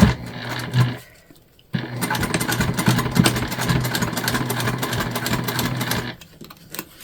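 A sewing machine stitches through a vinyl bag, its motor whirring in a loud, steady run of several seconds after a short start and pause.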